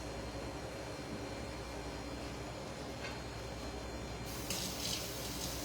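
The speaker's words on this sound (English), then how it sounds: "I'm going to wash my hands." Water runs steadily from a kitchen tap for hand washing, a constant broadband rush that swells slightly louder near the end, with no talking.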